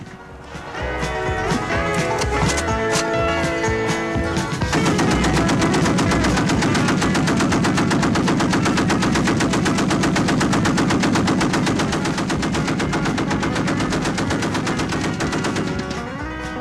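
Sustained, loud automatic gunfire from a machine gun loaded with blue-tip incendiary and silver-tip armor-piercing incendiary rounds at a 1986 combat shooting tournament, a dense unbroken rattle of rapid shots running nearly the whole time.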